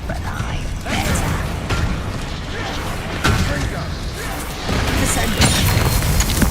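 A Confringo spell blast in the Hogwarts Legacy video game, heard as repeated loud mechanical booms and crashes in a busy, sustained game battle mix.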